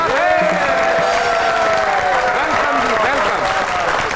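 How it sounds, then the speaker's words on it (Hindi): A studio audience on a Pakistani comedy talk show breaks into dense applause to welcome a guest, with music and voices carrying over the clapping. "आपकी बहुत सी तालियों में the one and only best reporter of Pakistan, Amin Hafeez"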